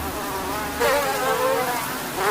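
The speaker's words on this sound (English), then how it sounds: "over here, we have the mass-produced mosquitoes getting ready to give us the eggs to go out directly into the field." Dense, continuous high whine of mass-produced mosquitoes swarming in a breeding lab, close and fairly loud, growing slightly louder partway through with no voices.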